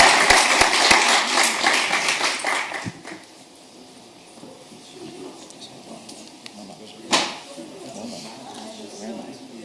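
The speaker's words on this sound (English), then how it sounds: "a big applause for Fanis" A conference audience at the MEF Global Forum plenary room applauds in a burst of clapping that fades out after a few seconds, followed by quiet room tone, a single louder knock and someone talking.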